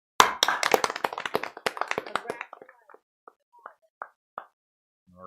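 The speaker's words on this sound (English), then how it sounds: "I want us to give all 3 of these students a big round of applause" Applause from a small audience at a town board of aldermen meeting, close and loud at first, then thinning into a few scattered claps that trail off over several seconds before a voice starts.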